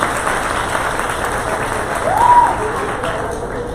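Audience applause for a biologist at an animal protection and defense lecture, steady dense clapping throughout that swells briefly midway, with faint voices mixed in.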